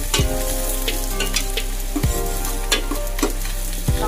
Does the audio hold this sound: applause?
no